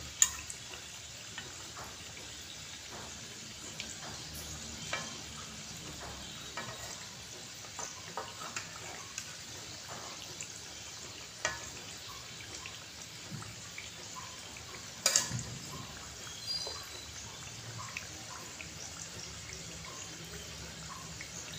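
Samosas frying in oil make a faint, steady bubbling sizzle with scattered soft pops and one brief clatter, heard throughout without anyone talking.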